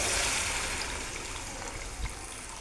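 Water poured into a pan of frying soaked moth-bean lentils and onion gives a loud, hissing gush that tapers slightly into a steady rush, close by and unaccompanied by talk.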